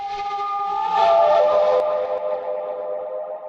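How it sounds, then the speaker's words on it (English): Flute sample inside a beat being produced live, a sustained breathy tone that swells loudly near the middle and then fades out over a sparse low background. "The flute is too loud, no?"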